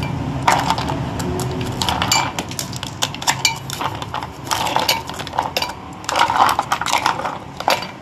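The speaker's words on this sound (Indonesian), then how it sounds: "Terus masukkan es batu" Ice cubes clatter and clink into a bowl of meatball mixture in uneven bursts, rattling and settling between pours.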